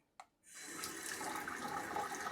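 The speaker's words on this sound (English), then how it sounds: "you've got the waterfall faucet" A brief click, then a waterfall faucet starts pouring into a recessed undermount sink in a tiny-house bathroom, settling into a steady, soft rush of running water.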